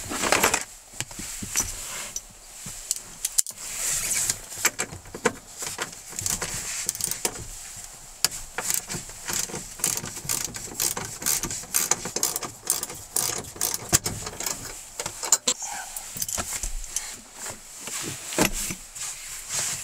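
A seat bolt comes out of a Toyota Celica's interior to the fast, irregular metallic clicking of a ratchet. The clicks repeat over and over at close range under a background hum, with no talk.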